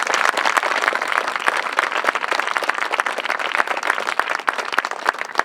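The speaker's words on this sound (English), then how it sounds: "About another round of applause." An audience claps steadily at a groundbreaking ceremony for the Vista expansion, with many hands giving a continuous, fairly loud round of applause and no clear talk over it.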